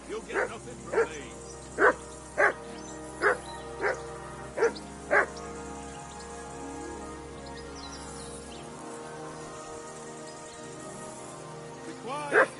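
A dog barks repeatedly in Kingdom Come Deliverance 2, about seven evenly spaced barks over a low ambient bed, then quiet, then one more bark at the end.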